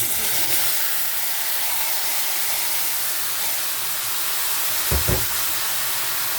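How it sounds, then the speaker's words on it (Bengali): Steady sizzling hiss of cabbage frying in a hot pan, continuous and fairly loud, with a brief low thump near the end. "তখন আমি বাঁধাকপি কড়াইয়ে ঢেলে দেব।"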